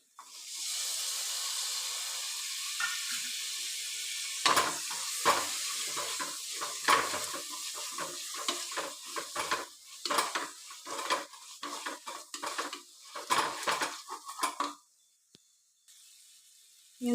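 Tomato stirred into sautéing onion, ginger and chilli in a pan for beef varattiyathu, a steady sizzling hiss broken by repeated spoon scrapes and clinks that fall quiet near the end.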